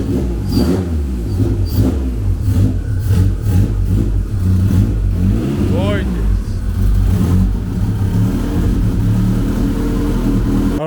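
A Honda Civic EF engine, its exhaust not fully connected, runs steadily with a loud, rough exhaust note, rising and falling with a few revs throughout.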